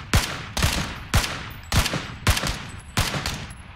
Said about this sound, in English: I kept shooting at the dead body.